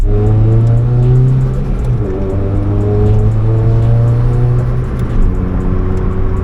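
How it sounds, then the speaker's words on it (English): A modified car exhaust drones steadily as the car is driven and accelerated, a loud continuous low rumble with shifting engine tones rising and dropping through gear changes, heard from inside the cabin. "I guess let's drive it. We can hear the exhaust then too."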